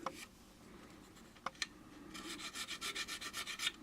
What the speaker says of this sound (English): we'll just file this up here until that burr disappears